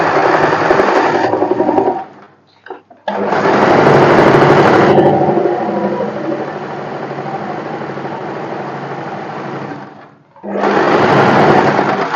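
Electric sewing machine running in long steady bursts while stitching a boatneck blouse with puff sleeves, loud and close, with short pauses between runs and no talking.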